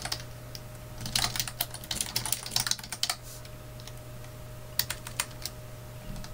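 Typing on a computer keyboard while entering a variable into simple beginner code: quick clusters of close, crisp keystrokes in two bursts over a faint steady hum, with no one speaking.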